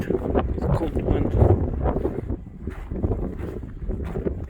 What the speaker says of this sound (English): Cold and dark Icelandic night with cold wind